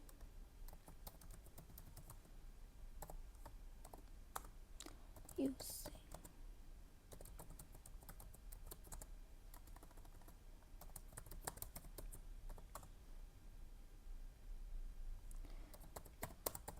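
Soft, rapid keystrokes on a computer keyboard while C++ code is entered, a steady patter of faint clicks running under quiet, close spoken narration throughout.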